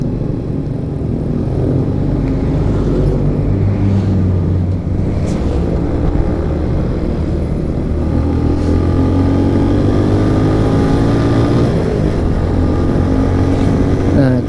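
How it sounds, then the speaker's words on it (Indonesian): Small 110 cc motorcycle climbing the road up to Dieng in Wonosobo, its engine a steady loud drone with wind rumble, the pitch rising and shifting as it pulls uphill. "Saya pakai sepeda motor, ini pun saya pakai sepeda motor yang cc kecil ya, 110 cc"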